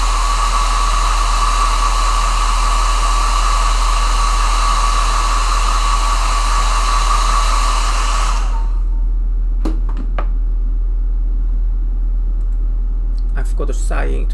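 Hair dryer blowing steadily on a watercolor painting, a loud, close, continuous whine and rush of air that cuts off abruptly partway through, leaving a few faint clicks and bumps.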